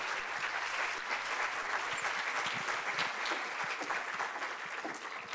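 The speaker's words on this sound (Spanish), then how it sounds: "Un fuerte aplauso" Sustained audience applause at a school education event, a dense, even patter of many hands clapping that holds steady for several seconds at moderate loudness.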